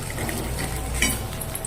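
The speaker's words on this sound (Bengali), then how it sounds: "ছানার বড়াটা ভেজে নিচ্ছি।" Chhanar bora, cottage cheese fritters, frying in hot oil, a steady close sizzle and crackle throughout with a brief louder spatter near the end.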